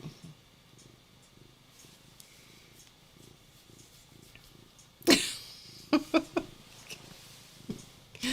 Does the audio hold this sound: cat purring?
yes